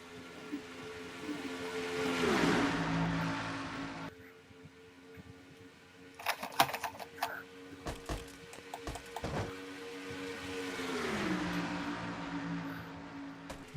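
Stock cars race in the NNSCRA Castrol GTX Cup Series Winston All Star Race. Droning engines rise and swell as a pack passes, then drop in pitch and fade. Scattered clicks and knocks come in between before another pass roars by.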